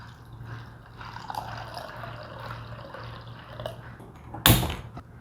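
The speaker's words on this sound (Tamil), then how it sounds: "இதில் தண்ணி விட்டுடலாம்." Water pours into a pot of soaked lentils in a home kitchen, a soft steady trickle over a low hum, ending in a short louder gush near the end.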